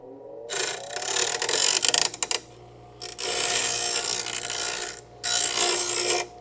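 A bench grinder deburring a metal part in a car restoration shop, the wheel's bright grinding hiss in three sustained bursts with short pauses and some clattering between, loud and close.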